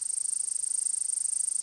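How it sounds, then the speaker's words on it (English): Cicada singing in a steady, piercing high buzz that pulses rapidly and evenly throughout, loud and unbroken, with nothing else audible. "Cicada."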